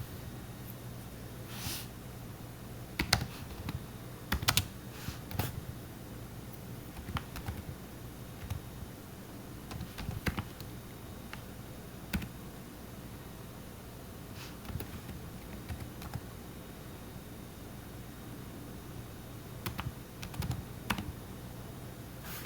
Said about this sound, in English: I am trying to type.